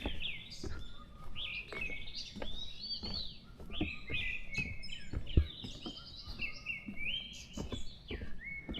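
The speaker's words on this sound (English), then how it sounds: "And there's another thrush over that way." A thrush calls repeatedly in a Korean mountain forest, clear whistled phrases with short pauses between them, fairly close against a quiet background.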